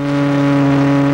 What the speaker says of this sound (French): Ça, c'est le bruit du moteur de la Ferrari 550 engagé par le team Raffanelli.